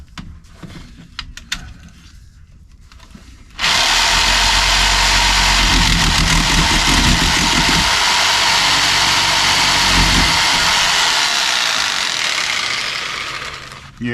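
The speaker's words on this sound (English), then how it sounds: "Best thing I can do is this little jigsaw to cut this." A small jigsaw cuts material during a dishwasher installation, starting abruptly and holding a loud, steady buzzing drone for about ten seconds before winding down, close and alone.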